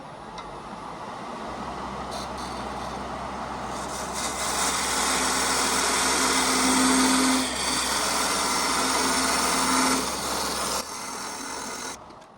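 A wood lathe whirs steadily while a cutting tool scrapes and hisses against a spinning wooden lidded canister, nearly parting it off, the pitch and intensity shifting as the cut changes.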